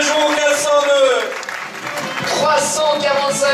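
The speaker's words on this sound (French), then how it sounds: "encore un tonnerre d'applaudissements pour Alain et cette magnifique Peugeot 402" A crowd applauds a Peugeot 402 at an outdoor classic car event near Le Mans' Mulsanne corner. Steady, dense clapping runs throughout beneath a loud amplified announcer's voice.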